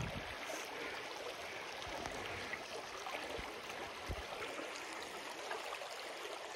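Water rushes and babbles steadily over a cobble bed in a creek, a constant close hiss and gurgle with no voices.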